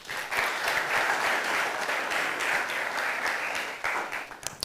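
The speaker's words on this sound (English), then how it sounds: "A round of applause." An audience applauds at an agriculture accelerator pitch day, with steady, moderately distant clapping from a room of people that holds evenly for several seconds before trailing off into a few final claps.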